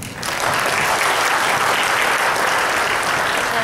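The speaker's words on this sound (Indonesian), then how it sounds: "Sekali lagi boleh kita beri tepuk tangan yang meriah untuk Pak Kanto" Loud, dense applause from a large audience at a 2017 year-end closing event, building quickly within the first moment and holding steady as a continuous wash of clapping with no talk on top.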